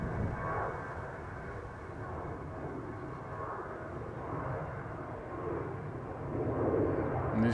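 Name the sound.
Airbus A319 aircraft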